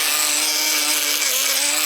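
A grinding stone bit smooths an intercooler part on a Chevy 372 build, giving a continuous, close, high rasping grind without pause.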